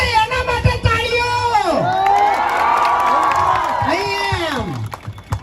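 A live comedy show audience cheers and whoops loudly, with shouts and high excited voices swelling together in a sustained crowd roar.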